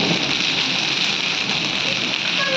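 Heavy rain mixed with hail pours down in a steady, dense, close roar that stays at the same level for the whole stretch, with no pauses and no voices.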